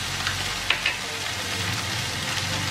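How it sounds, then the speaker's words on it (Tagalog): Green and red chilies sizzle steadily in a hot pan while sisig is cooked, a close, even frying hiss broken by a couple of brief clinks. "Para mag-fry pa siya ng konti."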